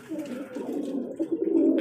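Domestic pigeon, a white-eyed bird sitting nearby in a loft, gives low, steady cooing throughout, with soft pulsing rises toward the end; no one speaks.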